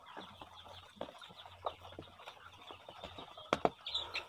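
Hens cluck softly in scattered bursts, with a sharper squawk near the end, against a quiet farmyard background.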